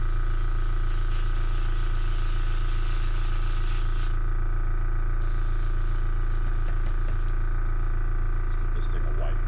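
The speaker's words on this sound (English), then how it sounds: "I'm ready to be done with this primer stuff so this airbrush thing isn't running all the time." An airbrush spraying primer gives a loud, unbroken hiss that runs the whole time, with someone talking over the steady rush of air.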